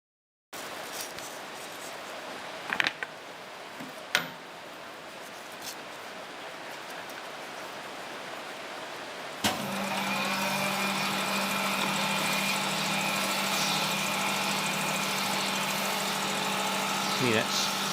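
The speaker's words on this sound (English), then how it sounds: "that's got that tape underneath these jaws here, and that's polishing the journal now." A crankshaft grinding machine polishes a journal on a Ransomes MG 600cc petrol engine crankshaft. A low mechanical drone with a few knocks gives way midway to a louder, steady grinding whine with a strong hum that runs to the end.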